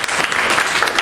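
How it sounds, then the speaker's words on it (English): A brief, loud burst of audience applause for speakers, dense clapping filling the room for about a second. "let's give our speakers a round of applause"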